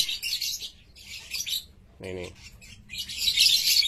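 Lovebirds in a breeding cage chirp in bright, busy bursts that come and go, with a short low-pitched sound in the middle, close and fairly loud.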